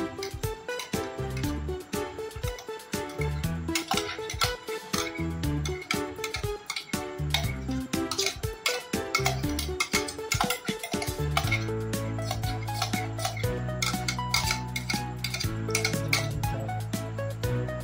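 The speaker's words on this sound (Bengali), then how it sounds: "সবকিছু নিয়ে নিয়েছি আর ভালো করে মেশাবো, ভালো করে মিশিয়ে নেবো।" A mango ice cream mixture being stirred in a bowl, with repeated clinks and scrapes of a utensil against the dish over a steady bed of background music.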